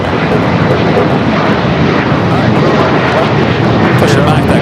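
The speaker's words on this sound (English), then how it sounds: "Our next departure, United Flight 32, heading to Tokyo Narita, 787-9 Dreamliner." A United Boeing 787-9 Dreamliner departing Los Angeles airport for Tokyo, its jet engines giving a loud, steady broadband roar that holds throughout, with a voice talking faintly over it.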